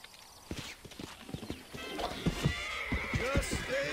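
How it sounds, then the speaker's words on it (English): A horse in the video game Red Dead Redemption, close rhythmic clip-clop of hooves building in pace, with a clear neigh and whinny near the end over busy game ambience. "You're on a horse."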